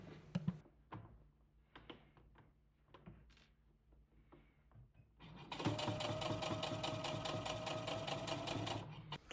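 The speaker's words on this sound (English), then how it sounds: "then I'm top stitching along that edge" A sewing machine runs steadily as it top stitches along the edge of a collar on a thrifted quilt garment, its motor whirring continuously in the second half after a few quiet handling knocks and taps.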